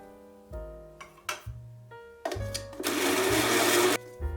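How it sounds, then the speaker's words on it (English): A kitchen blender chops chunks of chicken meat with a peeled garlic clove, running in short whirring pulses before a longer loud grinding burst, close up with no talking. "Blend them together."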